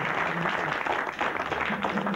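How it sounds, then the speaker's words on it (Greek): An audience at a Greek morning television show applauds steadily and densely throughout, a continuous wash of clapping with faint voices mixed in. "Χειροκρότημα λοιπόν."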